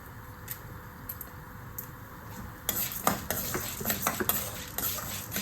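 Chana dal and urad dal dry-roasting in a pan, with a quiet start, then busy rattling scrapes and clinks of a spoon stirring the dry lentils, close by.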